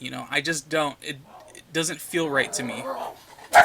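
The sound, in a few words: dogs panting and whimpering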